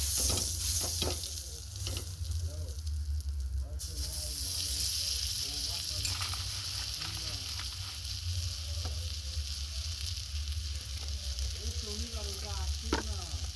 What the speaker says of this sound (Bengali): প্রথমে দিয়ে দিলাম আমি বাটার।